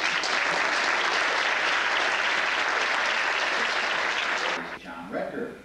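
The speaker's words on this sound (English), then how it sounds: "Ladies and gentlemen, a round of applause for Joe Zanotti." Sustained applause from an audience greeting a judges panel coordinator at an evening event, a dense roar of clapping that holds steady then tapers off as a voice begins speaking.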